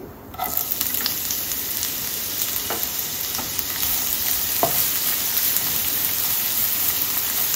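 Onions frying with spices in hot oil, a dense, steady sizzle close up that grows slightly louder partway through, with a few faint stirring taps and no talking.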